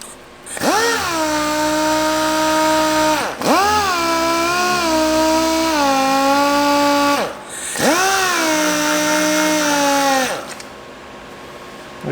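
A DA sander with damp sandpaper runs on the car paint of a 2018 Traverse to work out a scratch, a loud steady high whine that dips and swells through three long passes, close up with no talk.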